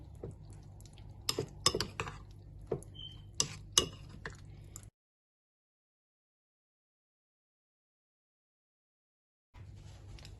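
Mattar pulao, a rice-and-peas dish, is mixed in a pot, making a flurry of close light clinks and scrapes of a spoon against metal, followed by several seconds of silence before faint sound resumes.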